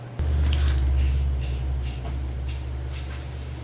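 A spray can of red paint plus primer hisses in several short bursts onto a go-kart, with a louder opening spray followed by quick rhythmic blasts close up and no talking.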